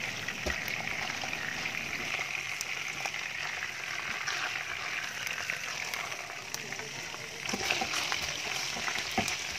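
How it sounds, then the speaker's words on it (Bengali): Chicken pieces fry in a pan with a steady, close sizzle and faint crackles, punctuated by a few sharp pops and clinks, with no talking. "চিকেনগুলো আমার ভাজা হয়ে গেছে।"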